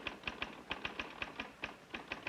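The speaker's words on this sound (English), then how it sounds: "When a key is struck, the turning power roll pulls the type toward the paper, then quickly releases it." Keys struck on a 1970s electric office typewriter, a quick, even run of about a dozen crisp clacks with a slight mechanical thump beneath each, close and clear with no one talking.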